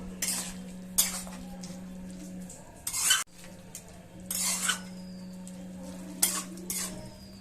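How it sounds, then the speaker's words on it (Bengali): A spoon stirs chicken gizzard and liver curry with turmeric in a pot, giving several scraping, clinking strokes against the metal over a steady low hum, with a louder clatter midway. "হলুদ দিয়ে এবার ভালোভাবে নাড়িয়ে আবার ঢেকে দেবো"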